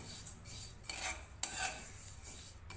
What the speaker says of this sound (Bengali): এই পাঁচফোড়নটা এবারে আমি গরম কড়াইয়ে ভেজে নেব